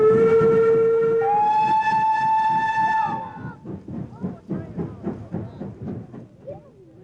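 A British Railways Class 4 Mogul steam locomotive on a heritage line gives a long sustained whistle, then moves off with a steady rhythmic chuffing exhaust beat. The sound is fairly close and there is no talk.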